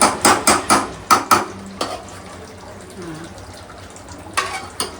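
A metal spoon knocks sharply against a cooking pot of chicken masala in a home kitchen, with a quick run of five or six loud taps, a pause, then two more taps, and faint talk in the background.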